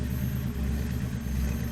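A Ford Mustang GT500 V8 idles with a steady, deep low rumble, loud and continuous throughout, with no voices over it.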